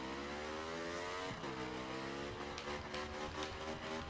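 A motorcycle engine runs steadily throughout, with a dip and shift in pitch partway as the rider moves on, loud and close with no talking.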